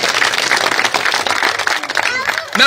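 A crowd at an outdoor village political rally in Bega village, Gannaur, applauds a schoolteacher, steady dense clapping throughout with some voices mixed in.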